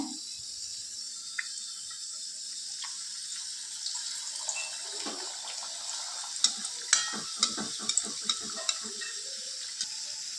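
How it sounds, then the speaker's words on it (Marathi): Potato and pea patties fry in oil over a medium gas flame, making a steady soft sizzle with scattered light clicks and taps from a utensil near the end. "आता मीडियम गॅसवरती सर्व पॅटीस आपल्याला तळून घ्यायचे आहे"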